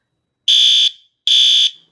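An Arduino rain sensor circuit alarm sounds two identical shrill electronic beeps, each about half a second long and evenly spaced, loud and clean with nothing else heard.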